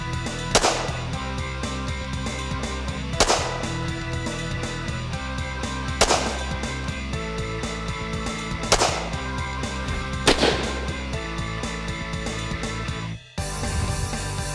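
.22 Magnum Sidewinder mini-revolver, single action, fired one-handed at close distance: five sharp shots spaced about two and a half seconds apart, loud over a steady musical bed, with a brief dropout near the end.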